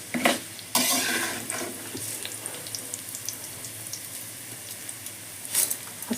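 Moong dal frying in a pan for a Telugu amaranth-leaf stir-fry, a steady close sizzle with a few louder scraping bursts from stirring.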